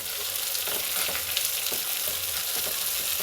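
Onion, ginger, garlic and dried chillies frying in a pan give a steady, close hiss and crackle with faint stirring, with no talk over it.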